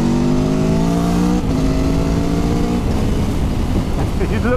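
A 2021 Aprilia Tuono V4 motorcycle pulls hard under acceleration, its loud engine note climbing steadily in stepped harmonic bands through a gear change near the middle, close and continuous.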